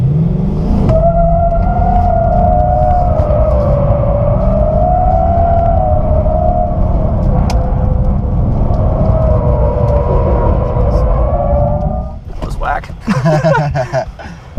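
A car drifting in donuts holds a long, steady engine drone with a wavering pitch as it circles, then rougher revving bursts near the end, while people talk over it.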